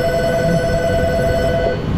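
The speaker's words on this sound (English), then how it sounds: "The phone is ringing" An electronic telephone ringing inside a car repair garage where a Dodge Caravan is being worked on. The tone is a steady, continuous ring lasting about two seconds, loud against low workshop background noise.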